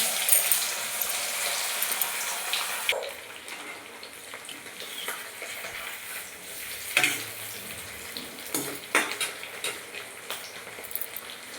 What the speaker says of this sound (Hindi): आलू को भी आमे टिके से तेल रे छाणी दबा।